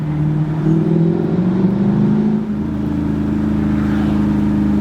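Mercedes-AMG car engine running steadily while driving, a loud continuous low hum that shifts pitch midway as the car changes gear or speed, with no talking.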